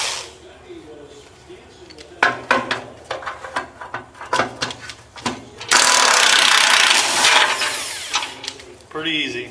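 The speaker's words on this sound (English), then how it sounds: "I'm breaking out the big dog here, the Milwaukee M18 half-inch impact" A Milwaukee M18 half-inch impact wrench loosens bolts on a Model A hot rod: several short rattling bursts of hammering, then a long sustained loud impact run, close and forceful.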